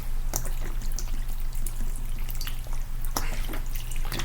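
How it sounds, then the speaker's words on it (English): Vodka is poured from a bottle over lemon balm plants, a steady close trickle and splash of liquid with a few sharper drips, no talking. "pour the vodka"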